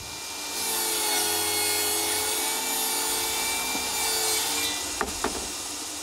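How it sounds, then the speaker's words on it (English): Close by, a table saw cuts a rabbet in 2x4 lumber, a steady whining blade with a hum that holds for several seconds, then fades as the cut ends, followed by a couple of sharp knocks of wood. "I need to cut a rabbet that will receive the bores for the top. And I'll do that in 2 passes on the table saw"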